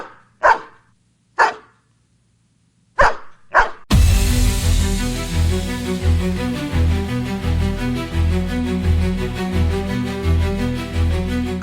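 Gladius, a dog, lets out four sharp, separate barks close by, followed by loud music that starts abruptly and continues.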